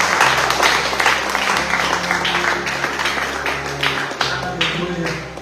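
Congregational applause at a Portuguese-language church service, steady clapping from a crowd that carries on at an even level over a low hum throughout.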